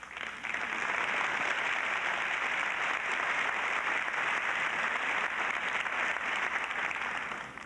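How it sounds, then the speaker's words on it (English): Steady, sustained applause from a crowd, a continuous wash of clapping lasting several seconds at moderate level, with no voices over it. "That was the weakest applause I think I ever heard."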